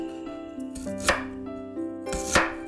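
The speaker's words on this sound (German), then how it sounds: "Zum Marinieren schneiden wir Zwiebeln nur grob." Onions coarsely chopped with a knife on a board: two sharp, close thuds about a second apart, with a steady low hum behind them and no talking.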